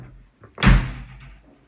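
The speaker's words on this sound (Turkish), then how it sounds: "kapıyı da kapatacağız" One firm thud of a door being pushed shut comes close and loud after a moment of quiet, then fades to a soft rattle.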